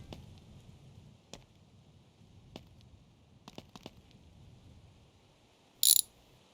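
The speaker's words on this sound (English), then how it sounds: "Let me go ahead and unscrew the screw real quick here." A screw is undone with a ratchet on a front-wheel-drive car project in a home garage, heard as a few sparse, quiet clicks and knocks over near silence, ending with a short, sharp burst of ratcheting.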